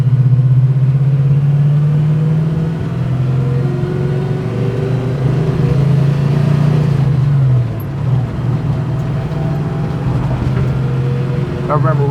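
A 1969 Chevelle with a 383 stroker big-block engine, a deep, loud idle rumble that rises and falls through a couple of revs, with someone talking over it.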